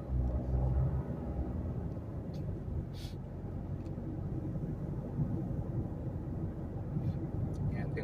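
Ordinary road driving on a quiet Friday, with a steady low rumble from the moving car and occasional brief swishes of passing traffic, all fairly faint.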